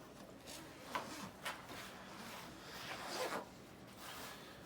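Zipper on First Lite Solitude hunting pants being pulled, several faint, quick rasping zips with short pauses between them, close to the microphone in a quiet setting.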